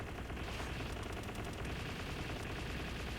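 The Vortex Beater, a laser Gatling gun in a video game, fires continuously, a dense, unbroken stream of rapid shots at steady loudness throughout with no talk over it.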